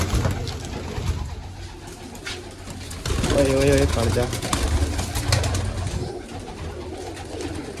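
Pigeons coo and flutter close by while people shout excitedly over them, with a steady background hum throughout.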